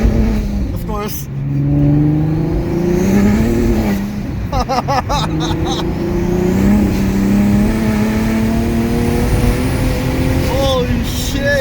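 Turbocharged Nissan 370Z tuned to 600 wheel horsepower pulling hard through third and fourth gear with the tires spinning, a loud rising engine roar with turbo whistle and gear-shift breaks, while excited voices shout over it.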